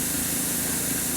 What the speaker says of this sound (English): It's a tighter spray pattern